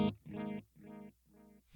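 Guitar through a Neural DSP Archetype Gojira delay with added reverb feedback: three repeating tonal notes, each fainter than the last, ringing alone with no voices.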